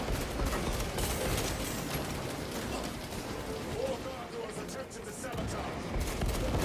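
Gunfire in a video game comes as a dense, continuous clatter of rapid shots and explosions, loud and sustained throughout the stretch.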